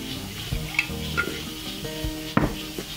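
Chicken with yogurt and green coriander-mint chutney sizzling in a pan, a steady close hiss broken by a few stirring scrapes and one sharper clack, no voices.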